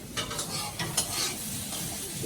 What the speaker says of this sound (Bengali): এই দেখো কি ভাজছো।